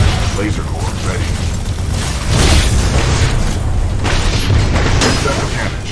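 A Titanfall 2 titan's laser core blast, heard as a loud, continuous roaring beam with a dense mechanical rumble, under a robotic voice speaking.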